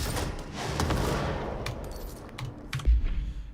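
Gunfire from a weapon in the video game Control, a dense burst of shots that fades after the first second or so, then a few sharper cracks and a low thump near the end, with no voices.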